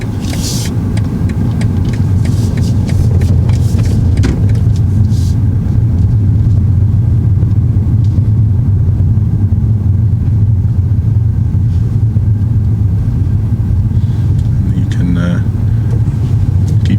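A motorcycle engine holds a steady loud rumble for a long stretch during a riding lesson, with a few brief knocks and wind noise on top.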